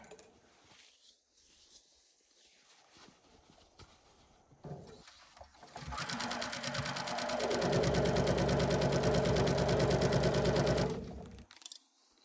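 A sewing machine stitches a fabric bucket hat, with faint handling noises first, then a loud, steady rapid whir of stitching for about five seconds before it stops.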